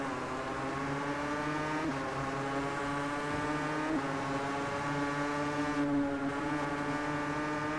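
Two-stroke 500cc racing motorcycles in the Valentino Rossi The Game video game scream at high revs, the buzzing engine pitch climbing and dropping through quick gear changes in a continuous, loud whine.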